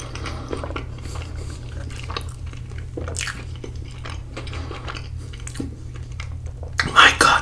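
A giant apple pie cinnamon roll is chewed up close in soft, sticky, quiet bites, with a small crunchy burst near the end.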